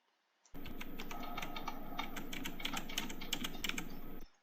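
Keys pressed on a computer keyboard to send wireless commands to a remote-controlled model submarine: a steady burst of rapid, close clicking typing that starts abruptly and stops suddenly after about four seconds.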